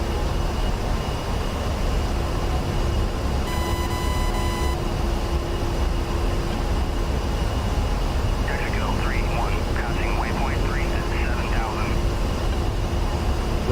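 A-10C Warthog in the DCS World flight game on its takeoff roll, a loud continuous jet roar with a steady hum, a short cockpit tone partway through and chirping warbles later.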